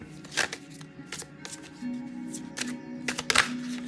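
Tarot cards are shuffled by hand during a reading, giving soft riffling and sharp flicking bursts, close and fairly quiet, with no talk over them.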